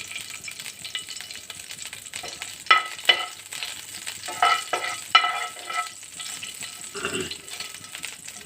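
White cumin seeds hit hot oil and crackle in a steady sizzle, with a few sharp pops and spits over the frying hiss, close and moderately loud.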